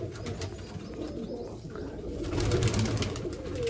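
Soft, low pigeon cooing repeats steadily against a dull, constant background rumble, fairly close and moderately loud.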